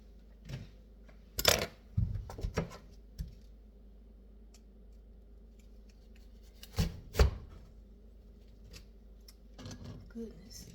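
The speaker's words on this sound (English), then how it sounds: "these little pieces that still have peeling on it, I just cut it off of there and put it in there so nothing wasted" Knife cutting old apple pieces with the peel still on, a few scattered sharp close clicks and chops on a cutting surface, separated by quiet stretches.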